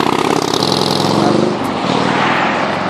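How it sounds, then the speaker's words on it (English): Engine of a passing vehicle, a loud throbbing drone that swells and then eases off as it goes by, with some talking mixed in. "That was a beautiful engine noise."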